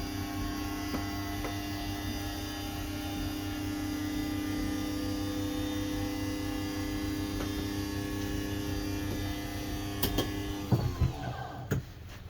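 A motorized closet slide-out on an RV retracts with a steady electric motor hum and drone throughout, ending in a few sharper squeals and clunks near the end as it reaches full closure.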